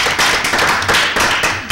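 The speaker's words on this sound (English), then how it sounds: "I think we should give her a round of applause." A round of applause at a board meeting: steady, close clapping from a small group, brief and fairly loud, with no voices over it.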